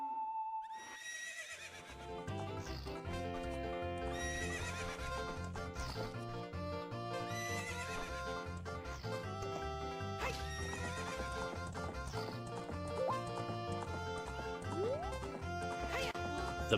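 The horse Epona in the Ocarina of Time video game whinnies loudly near the start, then her hooves clip-clop in a steady galloping rhythm throughout, layered with game music and effects.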